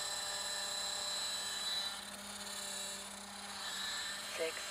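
A scale RC helicopter, a Roban EC130 800, flies at low head speed, a steady whining drone with a high-pitched electric tone that holds near and fairly faint throughout.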